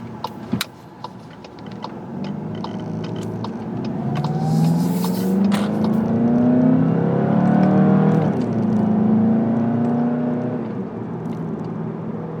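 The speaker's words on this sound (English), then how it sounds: "the engine is much more, has a kind of a tenor tone to it" A 2020 Volkswagen Jetta GLI sedan engine revs up steadily on the autobahn, its pitch climbing smoothly through the 7-speed automatic gears as it accelerates, loud and close with a rising whine.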